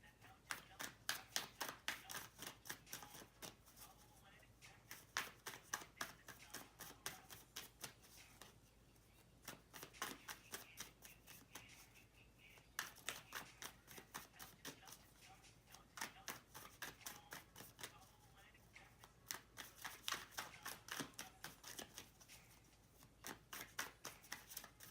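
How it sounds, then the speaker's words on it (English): A deck of tarot cards is riffled and shuffled repeatedly at close range, with rapid flicking bursts in a steady uneven rhythm broken by short pauses. "Okay, I'm going to finish shuffling this deck now."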